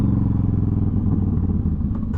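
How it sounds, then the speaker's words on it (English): Yamaha Raider 1900cc muscle bike with the exhaust baffles removed idles nearby, a loud, deep, lumpy rumble with a steady pulsing beat and no talking. "Literally, we're looking at a completely stock motorcycle, minus the fact that I removed the baffles."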